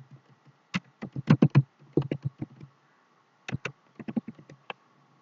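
A business name is typed on a computer keyboard in quick bursts of crisp, close keystrokes, with a pause of about a second between two clusters of taps.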